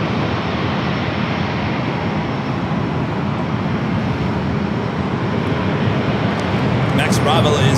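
A two-year-old Airbus A350-900 departs San Diego airport for Munich, with a loud, broad, continuous jet roar swelling slightly as it goes and a person talking over it.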